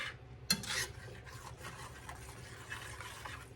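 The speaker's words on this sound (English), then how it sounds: "We want to get this all stirred up really nice in here." French chicken being stirred in a pot, a soft scraping and rubbing of a utensil against the pot with a sharper clink near the start, quiet and close, with no talking.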